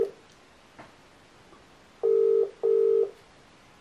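A WhatsApp video call ringing on a phone: two steady electronic tone bursts, each under half a second, separated by a short pause, with fainter clicks before them.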